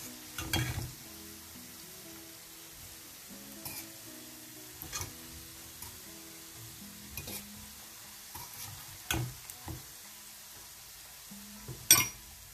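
Semolina makrouds frying in hot oil, a soft continuous sizzle broken by occasional clinks and stirring knocks as the pastries are turned and lifted, with no talking.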